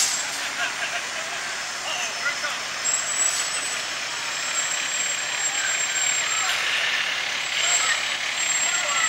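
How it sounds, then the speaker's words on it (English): A fire truck engine runs steadily at a fall weekend parade in Honeoye Falls, New York, giving a loud, continuous rumble and hiss for the whole stretch, with faint background crowd noise. "Fire truck still runs."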